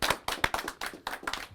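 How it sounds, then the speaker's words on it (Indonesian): Short bursts of hand clapping from a small studio audience at a live Indonesian talk show, sharp, close claps arriving in uneven clusters with no voices over them. "Tepuk tangan teman-teman buat Ustadz Bruce Lee."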